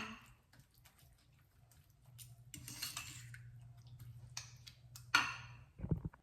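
Spoon scraping and clinking in a bowl while tuna and Skyflakes cracker nugget mixture is stirred with chicken powder, soft irregular taps and scrapes, fairly quiet, with a low hum beneath.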